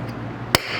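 A metal punch tapped once against a vehicle door to mark a drill hole location, a single sharp click standing out from steady low background noise.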